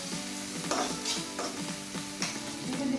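Onion, ginger and garlic sautéing with curry leaves in a hot pan of oil for a chickpea gravy, a steady close sizzle broken by scraping stirs, with no one talking.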